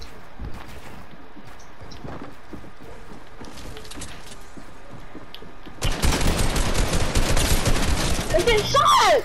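Rapid gunfire erupts in the Fortnite video game, a dense burst of loud shots in the last few seconds after a quieter stretch of game ambience and voices.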